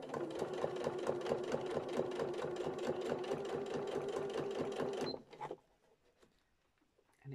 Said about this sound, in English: my sewing machine's not very well, I will warn you, it's making horrendous noises.